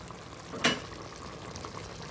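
Rabbit with prunes simmering gently in a pot, giving a soft steady bubbling and faint sizzle, with one brief clatter as the lid or contents shift, quiet and close.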